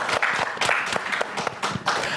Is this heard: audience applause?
yes